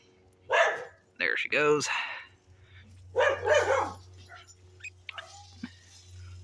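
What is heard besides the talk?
dog barking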